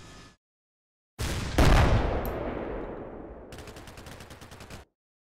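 Gunfire in the war game Combat Mission: Black Sea: a heavy blast rings out and rolls into a long decaying rumble, then a rapid, closely spaced burst of automatic fire chatters for about a second before cutting off.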